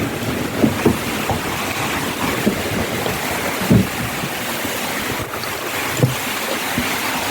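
Strong typhoon winds of Typhoon Tino under signal number 4 roar in a constant dense rush, with gusty surges and occasional knocks and thuds of debris close by.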